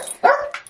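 A pet dog gives a single close, loud bark with a whimpering tail, followed by a shorter yip, in an indoor home setting.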